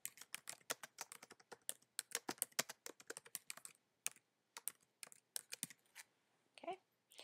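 Rapid clicking keystrokes on a computer keyboard while typing a blog link list title, in quick irregular bursts with short pauses, close and fairly quiet.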